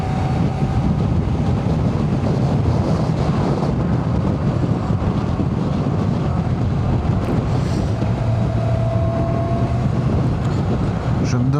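Continuous loud wind rush while riding a 2002 Kawasaki ZX-6R motorcycle, a dense steady roar with low engine rumble underneath, no talking.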